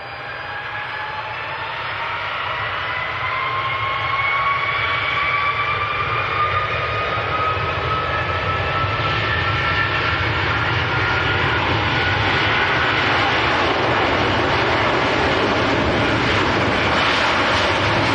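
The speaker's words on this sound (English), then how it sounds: "Right, so this is Virgin 73 to Orlando. Airbus A330. Some A330 power." A Virgin Airbus A330 jet bound for Orlando powers up at Manchester Airport, its engines swelling into a loud, sustained roar with a rising whine as the airliner accelerates nearby, steady and dominant throughout.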